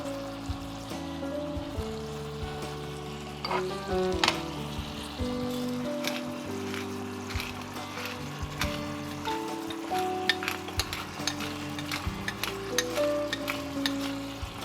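Wild turkey pieces searing in a hot pan give a steady, close sizzle that runs throughout, with scattered crackles and a low kitchen hum underneath and no talking.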